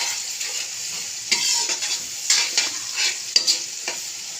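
Spices and rice being stirred in a hot frying pan: close, repeated scraping strokes from a spoon over a continuous sizzle, with no voices.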